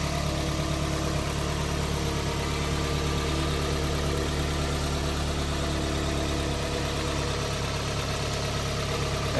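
A 2005 Toyota MR2 Spyder's engine idles steadily with a constant low rumble and faint vibration, close by and unchanging, with no voices.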